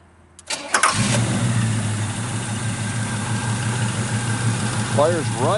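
A 1968 Chevrolet Camaro RS with a matching-numbers 327 V8 cranks briefly, then fires and settles into a loud, steady, close idle rumble, with a short squeal near the end.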